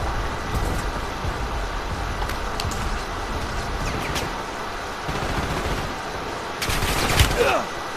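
Gunfire in the video game Warzone, a few scattered shots under steady game ambience with a louder burst near the end, with voices heard in the background.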